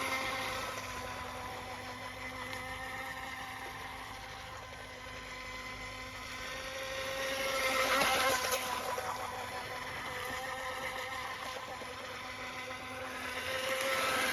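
A small JetStepper model boat, run on a 500 milliamp battery, circles on the water in a tight circuit, its faint steady motor whine swelling and fading as it comes nearer and moves away, with no talking.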